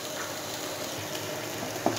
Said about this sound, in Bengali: আরেকটু 1 মিনিটের মতো আমি ভাজা ভাজা করব